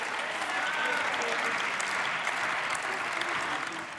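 Sustained applause from a parliamentary group in the German Bundestag during a debate, a dense, even wash of clapping heard from some distance that fades slightly at the end.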